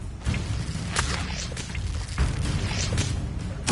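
Incendio fire spell cast in Hogwarts Legacy, a dense whooshing burst of flame and rumbling impacts with short bright crackles, loud and continuous through the moment.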